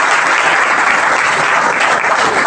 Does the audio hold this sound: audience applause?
yes